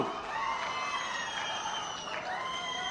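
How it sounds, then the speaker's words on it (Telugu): Applause and cheering from an audience at a political speech by CM Chandrababu Naidu, a faint, steady wash of clapping and crowd noise heard from a distance. "గట్టిగా చప్పట్లు కూడా అభినందించండి"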